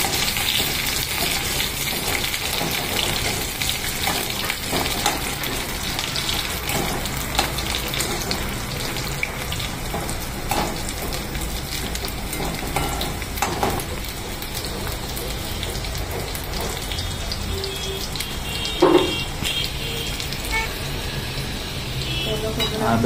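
Chopped onion sautéing with ginger and garlic in a pan for a Malvani-style crab curry, a loud, dense, continuous sizzle like steady rain with occasional stirring knocks.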